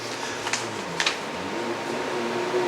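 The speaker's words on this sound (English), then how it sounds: "apologies for the background noise, it is my air conditioner" Steady, low broadband whir of a room air conditioner running through the whole stretch, with a few faint clicks and ticks on top and no voices.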